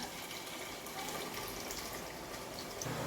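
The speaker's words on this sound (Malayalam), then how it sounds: "അരിച്ച് ഒരു കലത്തിലേക്ക് ഒഴിക്കുകയാണ്" Strained jaggery syrup pours into a pot, a steady soft liquid trickle and splash that stays faint and continuous throughout, with no voices.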